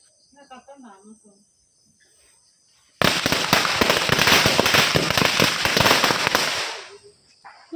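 A firecracker goes off at a Vishu celebration: a dense crackling burst of rapid pops lasts several seconds, loud and close, after brief talk over a background of chirping crickets.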